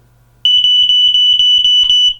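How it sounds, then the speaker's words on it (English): Smoke detector sounding its test alarm: a loud, shrill, continuous high-pitched beeping that pulses rapidly for about two seconds after a brief quiet start, close to the listener. "Test this smoke detector every Tuesday"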